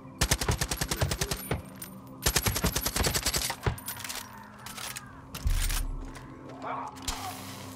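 Gunfire in the shooter Far Cry 5, with rapid machine-gun bursts in two long volleys followed by scattered single shots and clatter, loud and near, with a voice briefly speaking.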